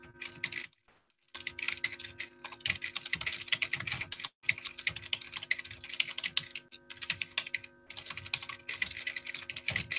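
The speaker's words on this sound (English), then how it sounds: "So I am just going to show briefly of the typing speed like this," Fast typing on a computer keyboard at about ninety words per minute: dense, rapid key clicks close up, rattling in quick bursts with a couple of brief pauses and no talking.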